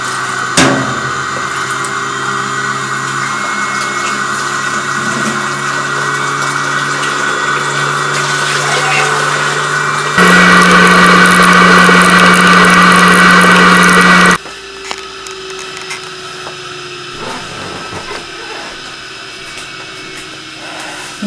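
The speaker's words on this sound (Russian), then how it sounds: "Открываем кран, когда сепаратор обороты наберет." A milk cream separator running up to speed, giving a steady close whirring hum that rises in pitch and grows louder midway, then drops back to a lower steady drone.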